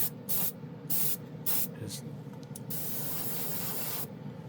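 An airbrush sprays alcohol ink onto plastic in short hissing bursts, then one longer steady spray, with a brief pause before a final short burst.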